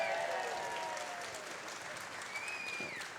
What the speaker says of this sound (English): round of applause for John Button